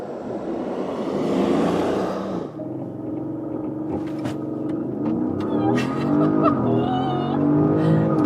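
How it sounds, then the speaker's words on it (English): A 2024 Porsche Cayenne Turbo SUV pulls hard under acceleration, its engine note rising and shifting as it climbs through the gears, heard from inside the cabin with a steady rumble underneath. "feels like a sports car in the acceleration at least"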